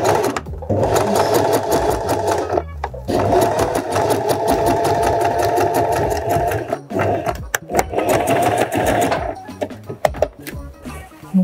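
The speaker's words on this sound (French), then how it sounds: "Et donc piquer ici." Sewing machine stitching along a trouser waistband seam, running in long continuous bursts with brief pauses between them, loud and close.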